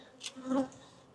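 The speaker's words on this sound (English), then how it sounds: "I'm not going to bother these bees anymore, because they're certainly not liking me in here." Honey bees buzzing around an opened hive, a faint, close humming drone with one bee passing briefly near.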